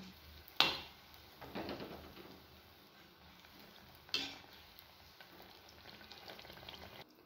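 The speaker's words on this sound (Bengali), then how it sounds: "সুজি বসিয়ে দিয়েছি, সুজির হালুয়া হবে, এটাকে ভাজছি আমি" Semolina fries in a pan for sooji halwa, giving a soft, steady sizzle with two sharp clinks of a utensil against the pan and some quiet stirring, and no talking.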